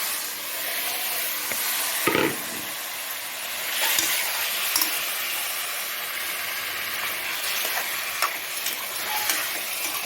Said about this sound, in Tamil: சிக்கன் போட்டு நல்லா கலக்கி வச்சுக்கணும்